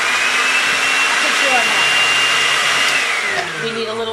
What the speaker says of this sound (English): We just broke our blender.